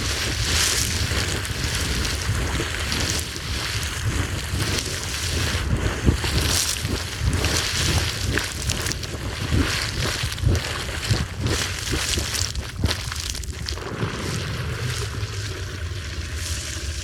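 A geyser erupts briefly, water rushing and spraying steadily in a loud, broad roar for a sustained stretch, with gusts of wind buffeting nearby.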